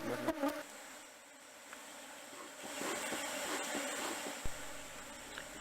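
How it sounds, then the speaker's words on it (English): Asian honey bees (Apis cerana) at a hive in Laos, heard as a steady, fairly faint insect buzz and drone throughout, with a few soft knocks. "Although Apis cerana is a small bee and does not sting heavily, at some occasions it can become very furious and make working at the hive"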